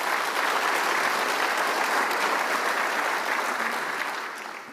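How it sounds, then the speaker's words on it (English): Sustained applause from a conference audience at a vitamins and minerals industry session, a dense steady wash of clapping that holds level for several seconds and then begins to thin out near the end. "Round of applause to her, please"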